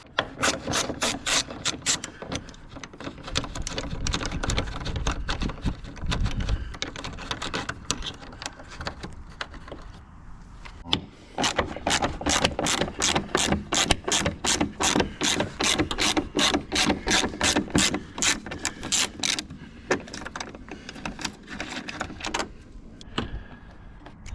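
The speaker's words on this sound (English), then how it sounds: "we're just going to start pulling all the 10mm bolts out" A hand ratchet removes 10mm bolts from a Vauxhall Vivaro van, fast clicking bursts of pawl ratcheting repeated in runs with brief pauses, close and clear, no talk.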